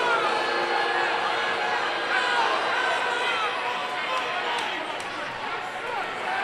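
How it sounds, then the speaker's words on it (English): Hockey arena crowd at a Columbus River Dragons versus Carolina Thunderbirds game groaning and murmuring in displeasure at a cross-checking penalty call, a steady loud wash of many voices throughout. "Oh, man, you just hear it from this crowd."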